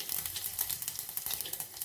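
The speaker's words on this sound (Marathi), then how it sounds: "नेहमीसारखी जिरं मोहरीची फोडणी करायची आहे" Asafoetida crackling in a cumin and mustard seed tempering for sambar, a quick burst of fine popping and sizzle heard close but fairly quiet.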